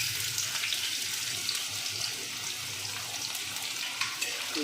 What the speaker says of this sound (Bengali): তেলটা ভালোভাবেই গরম হয়ে গেছে, এবার আমি এর মধ্যে দেবো পেঁয়াজ আর লঙ্কা কুচি